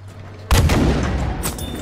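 An airplane's weapon opens fire in Battlefield V: quiet engine drone, then a sudden loud blast and a sustained roar of shots with a sharp crack near the end.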